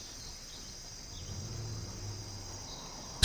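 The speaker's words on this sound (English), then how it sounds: "You can just hear the grasshoppers" Faint crickets and jungle insects chirp in a quiet, steady ambience on a map in the real-time strategy game C&C Generals Zero Hour, a soft continuous drone with no talking.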